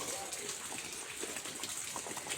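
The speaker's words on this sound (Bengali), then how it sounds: "এই যে পানি পড়তেছে বৃষ্টির পানি বাইরে নিচে" Rainwater pours and splashes steadily outside a rural house near a cattle shed after heavy rain, a dense continuous hiss with scattered drips, moderately near and unbroken for the whole stretch.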